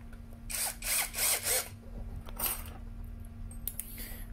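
A Toyoko cordless drill whirs in three quick, faint bursts and then once more, driving screws into metal roofing sheet, with a low steady hum between the runs.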